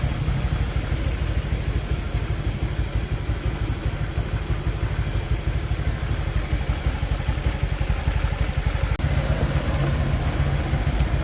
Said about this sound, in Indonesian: Nah ini baut 10, tinggal kita buka, motor hidupkan.